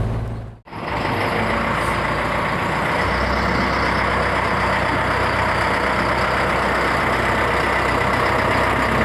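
The engine of a Vale of Rheidol Railway steam locomotive ticks over at idle, a steady, dense mechanical rumble and hiss holding constant and close after a brief dip at the start, with no talk.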